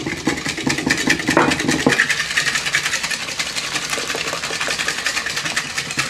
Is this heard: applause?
no